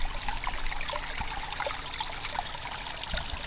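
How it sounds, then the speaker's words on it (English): A small backyard pond waterfall trickles and splashes in a steady, close babble of falling water, with no voices over it. "But this top little waterfall doesn't seem to leak."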